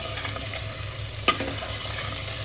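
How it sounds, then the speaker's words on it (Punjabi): Onions frying in a pan for an aloo vadi curry, a steady close sizzle with light stirring and one sharp clink of a utensil against the pan midway. "ਮੈਂ ਪਿਆਜ਼ ਸਾਰੇ ਭੁੰਨ ਰਹੀਆਂ"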